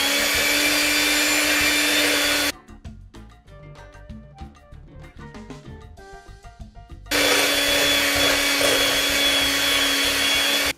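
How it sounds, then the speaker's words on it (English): A kitchen appliance blends wet ingredients including maple syrup, running loud and steady for a couple of seconds, stopping while lighter clattering sounds play, then whirring up again just as loud. "Now let's blend all the wet ingredients together"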